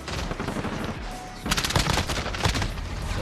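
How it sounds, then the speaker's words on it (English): SMG hipfire in Warzone: rapid bursts of close, loud automatic gunfire, a short volley then a denser sustained burst, with little else over it. "SMG hipfire kills."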